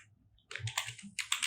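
Quick bursts of keystrokes on a computer keyboard while code is entered, close and crisp, with a short pause before a rapid run of clicking taps.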